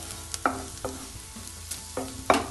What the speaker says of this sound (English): fry it for not more than 2 to 3 minutes.